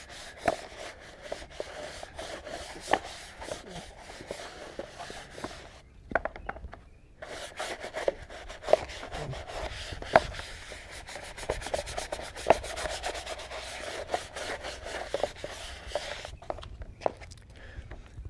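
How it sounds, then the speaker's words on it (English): Brush scrubbing a rubber car floor mat with cleaner, a continuous close rasping rub in repeated strokes with a couple of short pauses. "I'll give those areas an extra little scrub with something a little bit more aggressive"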